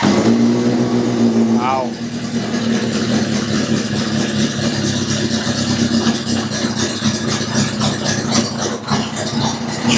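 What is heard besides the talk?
Honda CB750 motorcycle engine starting, revving and idling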